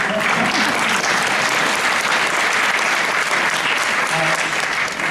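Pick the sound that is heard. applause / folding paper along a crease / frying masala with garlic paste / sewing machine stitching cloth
applause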